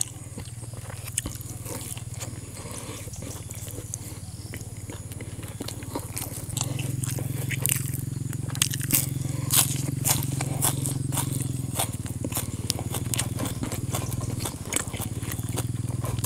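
Biting and chewing on a large fermented beef wrap eaten with fresh chili and garlic outdoors near dusk, steady close mouth sounds over a constant low background hum.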